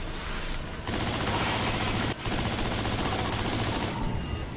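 Dense, sustained gunfire from the third-person shooter MindJack, rapid automatic bursts filling nearly the whole stretch with one brief pause midway, loud and close with no talk over it.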